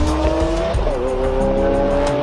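A Lamborghini Aventador SV accelerates hard, its engine a loud, steady high-pitched wail that dips briefly mid-run as a gear changes, then climbs again.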